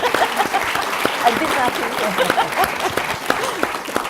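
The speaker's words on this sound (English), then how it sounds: "one more round of applause" Audience at the Barbara Ward Lecture Q&A applauding steadily, a dense close patter of many hands clapping throughout with faint voices mixed in.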